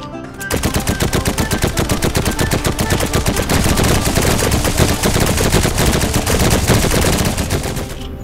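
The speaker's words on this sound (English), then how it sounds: "What the fuck are you shooting me for" Video game gunfire in Heroes and Generals: a long, loud burst of rapid automatic shots in an even, fast rhythm that continues for several seconds after a brief quiet start.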